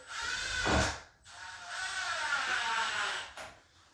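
A square-bit driver runs screws into drawer slide hardware, giving a short whirring drill burst that stops briefly, then resumes with a longer steady buzz, fairly close and moderately loud.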